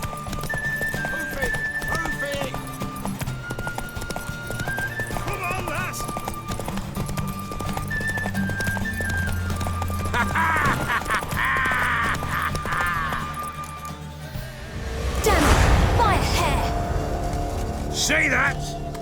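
Galloping hooves clop and a horse whinnies in The Witcher 3: Wild Hunt, loud and sustained beneath music and in-game voices, swelling into a burst of louder action noise near the end.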